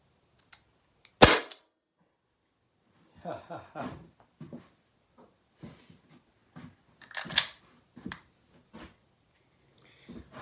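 A Byrna launcher running on a CO2 cartridge fires one sharp, loud pop, followed by a second crack a few seconds later, with someone talking in between and afterward.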